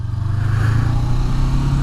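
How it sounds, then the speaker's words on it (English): A 2018 Honda CB500X ABS motorcycle engine drones close by with a steady, throaty rumble and slight rhythmic pulsing, no voices. "I really hear the mechanical revving of the engine more than the exhaust note itself."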